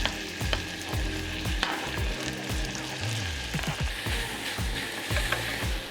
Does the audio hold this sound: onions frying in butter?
yes